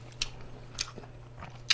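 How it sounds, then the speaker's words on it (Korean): Someone takes a bite of buckwheat bibim noodles, giving a few faint, close, soft crunchy chewing and slurping clicks spaced across a quiet moment with a low background hum. "자, 비빔면 한 입 먹어보겠습니다."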